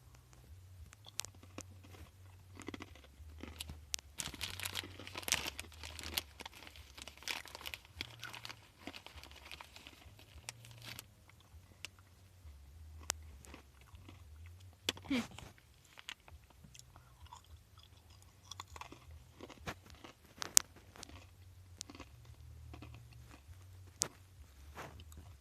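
Snyder's jalapeno pretzel pieces being crunched and chewed close up, with steady crunchy bites and mouth noises over about 25 seconds and no talking.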